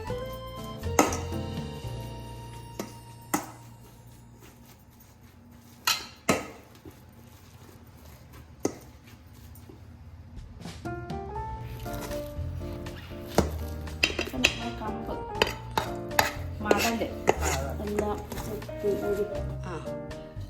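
A kitchen tool smashes and stirs cooked cassava in a pot. Sharp knocks and metallic clinks come in irregular bursts, sparse at first and then clustered toward the end, while a voice speaks throughout.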